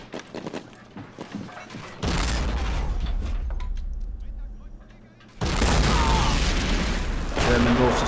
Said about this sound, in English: German mortars taken out my field artillery there.